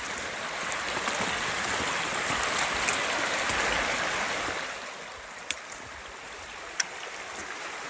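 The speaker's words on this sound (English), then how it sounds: "See, the river is just right over here." River water flows steadily out in the wild, a broad continuous rushing wash that eases slightly toward the end, with a couple of sharp faint clicks near the close.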